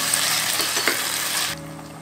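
Onion and tomato stir-fried with garlic, ginger and scallion in a hot pan, a steady close sizzle with light stirring scrapes that drops to a quieter simmering hiss near the end.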